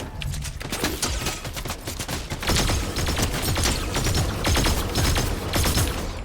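Rapid bursts of automatic gunfire fill a Fortnite battle, dense and loud for the whole stretch, with overlapping shots and no pause and no voices heard.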